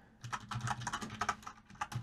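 Quick, uneven keystrokes on a computer keyboard while code is entered for an Odin and Raylib game, close and fairly soft, with no voices.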